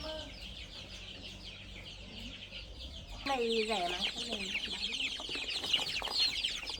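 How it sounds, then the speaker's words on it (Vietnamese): Hammer chickens, including roosters, clucking and calling in a busy poultry market, several short bird calls rising over crowd noise while a person talks nearby. "Ở đâu thì đây là gà Hammer,"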